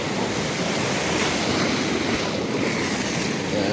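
Big ocean waves roar steadily and loudly around a fishing boat at sea, a continuous wash of surf with wind buffeting the microphone, no voices.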